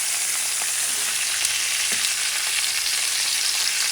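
Lamb chops fry in hot oil in a pan, giving a dense, steady sizzle that stays loud and close without a break, with no talking.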